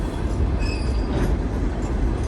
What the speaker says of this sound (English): This is Norfolk and Western coal line right here.